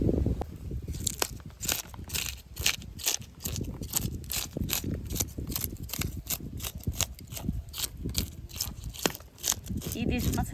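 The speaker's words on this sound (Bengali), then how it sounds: "এইবার মাছটাকে আশ ছাড়িয়ে কেটে নেবো" Hilsa fish being scaled and cut by hand at home, a dense run of rapid scraping crunches repeating steadily, close and fairly loud, with a voice talking underneath.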